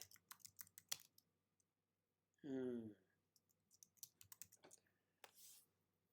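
Rapid clicking keystrokes on a computer keyboard come in scattered bursts, close and fairly quiet, broken by a short hummed voice in the middle.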